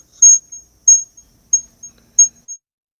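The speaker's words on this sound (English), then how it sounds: "There's something with the crickets." Crickets chirping over a remote call participant's audio line, four evenly spaced bright chirp bursts, each followed by a fainter echo, alone with no talk.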